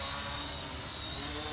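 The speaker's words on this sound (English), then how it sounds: "It definitely is a nice flying quad with this setup." An SK450 quadcopter in flight gives off a steady, even whine and buzz from its rotors, continuous and fairly close with no breaks.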